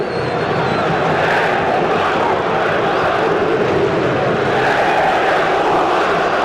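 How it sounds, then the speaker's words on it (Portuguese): A crowd of São Paulo football fans in the Morumbi stadium roars in protest against a player, producing a loud, continuous wall of massed voices that stays steady throughout with no pause. "a torcida do São Paulo desconta a sua frustração no Washington"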